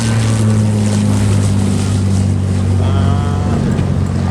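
A WWII P-51 Mustang's piston engine drones loud and steady as the fighter rolls in after landing at Palomar Airport, with a constant rumble and wind noise throughout.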